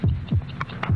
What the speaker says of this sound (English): 72 heartbeats.